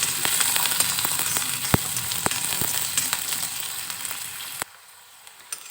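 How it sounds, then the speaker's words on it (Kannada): Onions and curry leaves sizzle and crackle steadily in hot oil in a pan for a Kannada-style cauliflower pepper fry, close and fairly loud with scattered pops, dropping quieter near the end. "ಕರಿಬೇವು, ಈರುಳ್ಳಿ ಹಾಕ್ಕೊಳ್ಳೋಣ. ಇವಾಗ ಇದು ಫ್ರೈ ಮಾಡ್ಕೊಂಡು"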